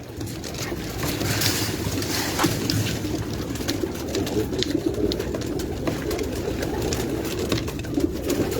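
Pigeons coo on a rooftop amid a constant wash of outdoor background noise, their soft calls blending into the steady ambience without talk.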